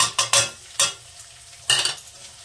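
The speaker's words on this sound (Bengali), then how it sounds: "পেঁয়াজ কুচিটা আমি হালকা ভেজে নেব" Chopped onion frying in a pan for palak paneer, with ginger and garlic paste, heard as a few sharp bursts of sizzle and stirring scrapes separated by quieter stretches, close and without talk.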